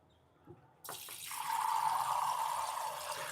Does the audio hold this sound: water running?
yes